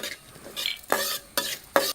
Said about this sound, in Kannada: ಈ ಉದ್ದಿನ ಬೇಳೆ ಮತ್ತು ಮೆಂತೆ ಸ್ವಲ್ಪ ಕೆಂಪಾಗೋ ತನಕ ನಾವು ಹುರಿಬೇಕು